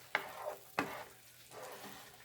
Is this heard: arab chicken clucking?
no